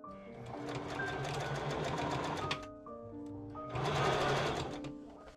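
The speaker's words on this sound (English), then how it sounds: "I machine sew those together." A sewing machine runs in two close, steady bursts while stitching a puffed sleeve to its inner lining for an 1890s Victorian ballgown bodice. A short pause separates the runs, and no one speaks.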